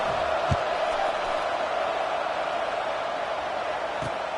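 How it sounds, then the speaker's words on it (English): Football stadium crowd murmuring after a touchdown, a broad steady buzz of many voices filling the background, with a couple of faint thumps and no one talking up close. "this crowd is buzzing after that last score"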